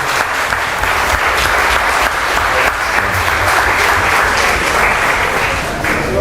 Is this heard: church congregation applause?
yes